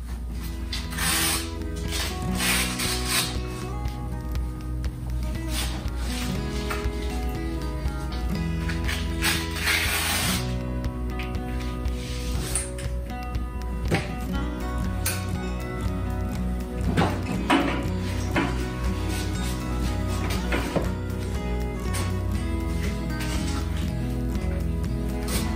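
Parts of a custom Society Wheelchairs frame, loosened with use, being tightened: continuous close mechanical clicking and ratcheting with metallic rattles and small knocks throughout, no voices.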